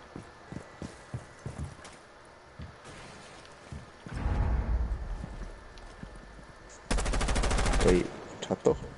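Gunfire in a late-night multiplayer shooter game: scattered single shots, then two loud rapid automatic bursts a few seconds apart, with sharp impacts between them.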